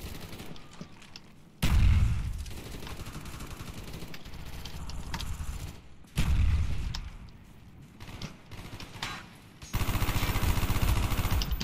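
Rapid spammed gunfire in a shooter video game, coming in loud bursts separated by quieter stretches of background game noise, with no talking.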